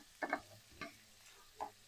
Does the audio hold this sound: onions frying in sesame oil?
yes